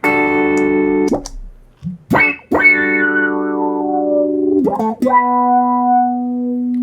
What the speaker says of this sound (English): we're going to be using an auto-wah or an envelope filter pedal